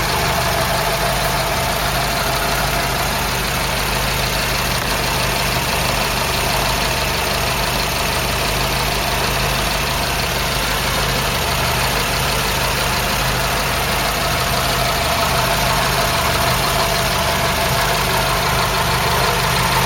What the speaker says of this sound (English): So just doing another engine test now.